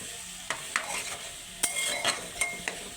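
Ghugni seasoned with garam masala is stir-fried in a pan: a soft sizzle runs underneath while a spatula scrapes in quick, uneven strokes, about half a dozen in all.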